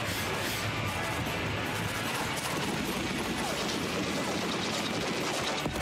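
Video game gunfire in a battle scene, with continuous dense shots and crashes forming a loud, busy barrage throughout.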